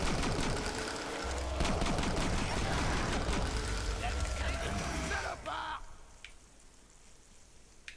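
Rapid assault rifle fire rattles continuously in a Call of Duty zombies custom map, loud and close for several seconds before stopping abruptly, with someone talking over it.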